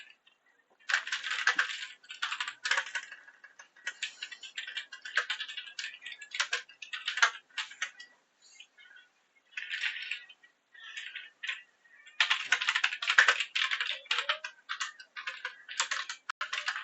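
Clicky computer keyboard typing comes in bursts of quick, close keystrokes with short pauses between runs, entering details into a session-storage program, with no talking.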